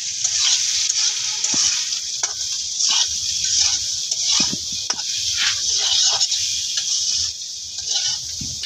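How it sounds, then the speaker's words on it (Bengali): Soybean chunks fry in hot oil with turmeric and salt, crackling and sizzling steadily while a spoon stirs and scrapes through them in repeated strokes. "সয়াবিনটা লাল করে ভাজিয়ে নিচ্ছে"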